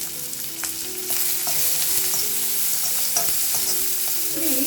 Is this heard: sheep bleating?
no